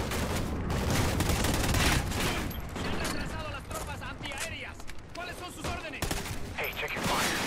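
Heavy gunfire in the Call of Duty: Ghosts game: loud, rapid automatic bursts and shots pile up with booming impacts, close and continuous, while voices talk underneath.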